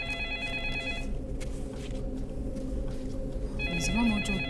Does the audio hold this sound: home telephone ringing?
yes